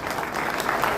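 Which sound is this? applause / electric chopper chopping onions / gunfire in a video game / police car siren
applause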